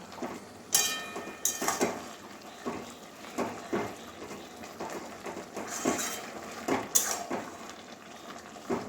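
Drumstick leaves, pumpkin, potato and eggplant are stirred in a pan, with repeated scraping and clanking of a utensil against metal in an uneven rhythm, close and fairly loud.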